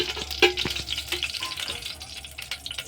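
Oil sizzling faintly as it heats in a hot pressure cooker on the stove before onions go in for a quick chicken dish, with soft crackles and a few clinks.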